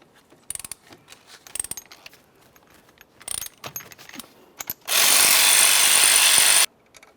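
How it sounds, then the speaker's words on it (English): Ratchet loosening the 14mm caliper slider bolts on the front brakes of a 2001-2005 Ford Explorer Sport Trac, with scattered clicks and metal knocks and then a steady, loud burst of rapid ratcheting lasting about two seconds. "let's continue on to removing the 2 caliper slider bolts"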